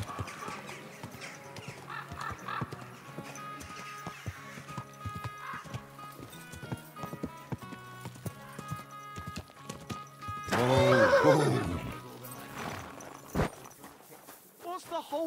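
In the video game Kingdom Come: Deliverance II, hooves clip-clop steadily while a horse snorts and gives a loud whinny partway through, with a voice speaking over the scene.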